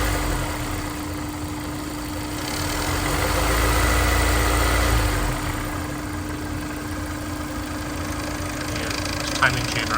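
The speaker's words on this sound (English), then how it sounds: "Yeah, timing chain right there. Tensioner's rattling." A Honda NSX engine idles warm while its timing chain tensioner rattles, a steady, close mechanical hum that swells briefly midway, then settles back to an even idle.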